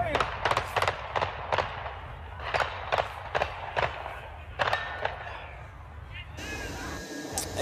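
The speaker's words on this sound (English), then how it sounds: "You hear at least 20 gunshots from the video." A rapid series of sharp gunshot cracks, more than a dozen in uneven bursts, pops over a noisy crowd at a youth baseball game on a high school field before the scene shifts to a muffled hum.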